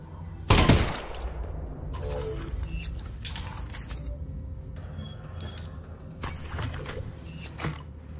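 Gunfire in the VR shooter Half-Life: Alyx, led by one loud close shot, then quieter mechanical clicks and a few fainter shots or impacts over game ambience.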